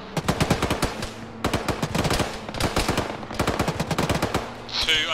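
Bursts of automatic gunfire crackle in a military shooter video game, rapid repeated shots in several clusters with brief pauses between them, fairly loud and close.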